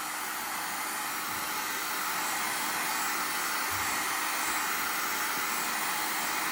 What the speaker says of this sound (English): The nice thing about a heat gun is you can be more direct with where you're applying the heat.